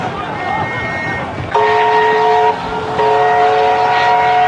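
A train departs at night carrying refugees, with sustained horn-like tonal blasts sounding over a rumbling, noisy rail background; the horn tones start partway through, briefly break, then resume loud and near.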